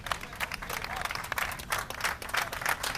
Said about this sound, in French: tout le monde connaît et va applaudir chaleureusement